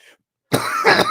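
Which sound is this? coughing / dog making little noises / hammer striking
coughing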